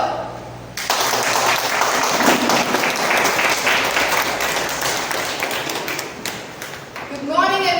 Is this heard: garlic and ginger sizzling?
no